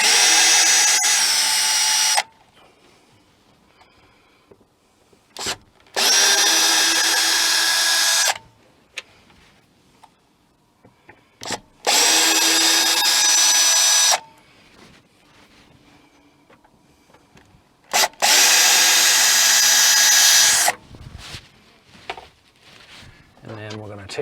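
A power drill backs screws out of the vent fan bezel in a Promaster 2500 159WB van build, four loud whirring bursts of a few seconds each, separated by quieter handling and brief voices.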